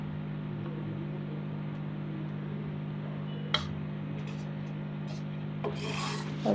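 Ghee is spread over a radish (mooli) paratha on a hot tawa, a faint, continuous rubbing scrape with a low hum underneath and a couple of sharp taps and scuffs near the end.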